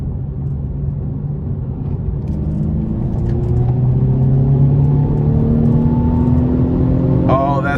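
A 2017 Mercedes-Benz C300 in Sport Plus accelerates onto an interstate, its engine note climbing steadily in pitch over a constant road rumble, heard from inside the cabin with a brief faint click near the end.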